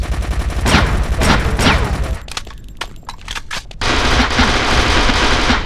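Rapid automatic gunfire in the online shooter War Inc, dense bursts of loud shots, a brief gap with a few scattered clicks and single reports, then another sustained volley close up.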